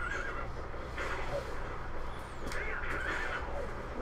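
A horse in the Zelda Twilight Princess video game whinnies over a steady, loud game background, with faint hoof and ambient sounds and no talking.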